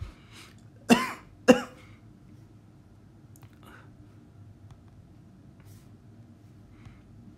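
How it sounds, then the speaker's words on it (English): Two sharp, close coughs come one right after another, followed by quiet room tone with faint small noises. "Sorry, I'm coughing a little."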